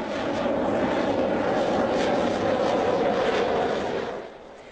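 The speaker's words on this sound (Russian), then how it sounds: "Истребители 4-го поколения Су-27 и перехватчики дальнего радиуса действия МиГ-31" Su-27 fighters and MiG-31 long-range interceptors fly overhead with a steady, loud jet roar that holds for several seconds and then fades away near the end.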